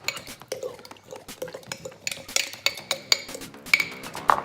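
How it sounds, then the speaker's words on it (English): Berries, including goji berries, being stirred in a jar for overnight oats, giving a steady run of close clinks and scrapes that grow sharper toward the end, with no talking. "The berry jar, I'm going to give it a good stir."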